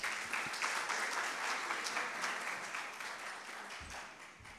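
Applause welcomes Sheema Kirmani as she takes the stage at an Urdu literary lecture event on Ismat Chughtai, with a steady wash of audience clapping that holds evenly and tapers slightly at the end.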